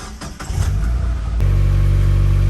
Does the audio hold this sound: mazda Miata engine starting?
yes